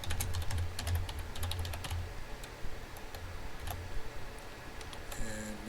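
C++ code is typed on a computer keyboard in a dense, continuous clatter of close key clicks, with a few louder strokes and brief pauses, and no talking.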